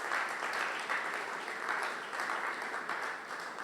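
A church congregation at a Sunday worship and thanksgiving service claps steadily and loudly, dense applause filling the room without pause, with no clear speech over it.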